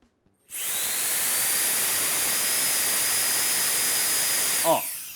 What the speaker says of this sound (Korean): 앞에 노즐 빼고 이런 식으로 다시 맥스로 체크를 해봐드리게 되면